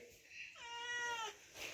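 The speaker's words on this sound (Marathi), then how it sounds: "मांजर येते बरोबर चहाच्या टायमाला" A cat meows once at tea time in a rural Konkan home, a single drawn-out, faint, close meow with soft talk around it.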